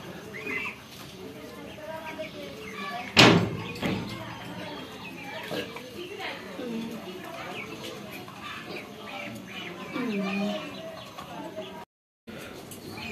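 Chickens cluck and squawk as ducks attack and peck them, with one sharp loud flurry early on and scattered bird calls after, under a person talking.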